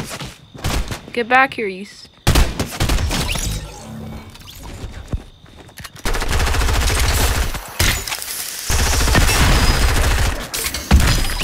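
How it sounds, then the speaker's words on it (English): Gunfire in the video game Fortnite, with rapid bursts of automatic shots and heavy cracking fire that continue for long stretches, mixed with game effects and a player's voice. "Let's shoot him."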